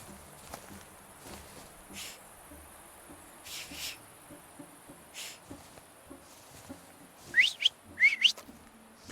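Two short rising whistles ring out near the end in The Thaumaturge game, following a stretch of quiet ambience with crickets, soft footsteps and faint rustles.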